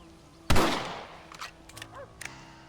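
A single loud, close rifle shot in the Red Dead Redemption video game, its sharp report decaying into a brief tail, followed by faint clicks and light rustling.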